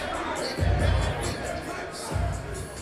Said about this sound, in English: Massive cheer for Kenny.